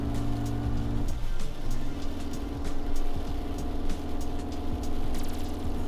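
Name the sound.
Suzuki Jimny engine accelerating up a bank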